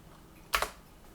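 Two quick, close keystrokes on a computer keyboard while typing a command, sharp clicks in rapid succession with near silence around them.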